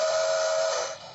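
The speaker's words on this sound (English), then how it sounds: "And the whistle is different too." A Lionel Polar Express toy train set's whistle sounds as one steady, loud, shrill electronic tone for about a second, then fades at the end with no talking over it.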